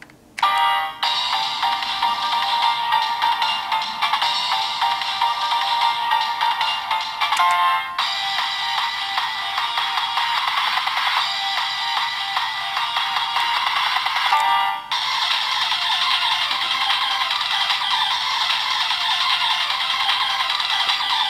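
A Kamen Rider Geats DX Beat Raise Buckle toy plays a loud electronic music track from its speaker, steady and continuous with brief breaks near 1, 8 and 15 seconds where the track shifts, no voices.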